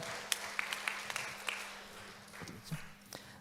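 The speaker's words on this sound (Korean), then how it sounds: "하나님께 영광의 박수 올려드립니다." A congregation applauding at a church service, a few sharp claps at first and then a looser, softer patter of clapping.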